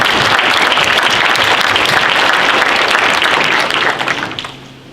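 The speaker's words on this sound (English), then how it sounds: "I'll have you all applaud him" Dense audience applause fills a lecture hall, a loud sustained crowd of clapping hands that holds steady and then tapers off toward the end.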